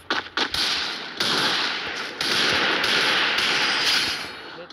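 Rapid gunfire in a video game, with sharp cracking bursts repeating in quick clusters and dense, loud, close-sounding volleys that fill the stretch with no talk over them.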